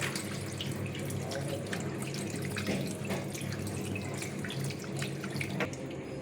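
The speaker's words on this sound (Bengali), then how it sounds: "ছানাটাকে কিন্তু খুব ভালোভাবে এরকম একটুখানি ধুয়ে নিতে হবে" Chhana (cottage cheese) rinsed under running water in a thin cotton cloth gives a continuous splashing, trickling flow with scattered drips, steady and close throughout.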